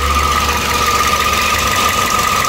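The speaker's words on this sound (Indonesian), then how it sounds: "Nah kita dengerin suara mesinnya ya." A Toyota Vios engine runs steadily up close, and a newly fitted fan belt gives off a constant high squeal above the idle hum.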